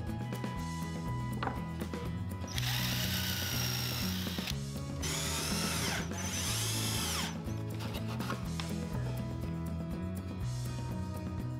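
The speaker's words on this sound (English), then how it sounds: "I pre-drilled with a countersink to prevent splitting" A power drill with a countersink bit whines loudly and steadily while pre-drilling wooden shelf slats for a leaning wall shelf, the motor pitch rising and dropping in several bursts as it bites into the wood.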